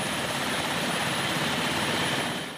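A helicopter flies close by over the Sahel of Mali, its rotor and engine making a loud, steady roar that fills the whole moment without any talk.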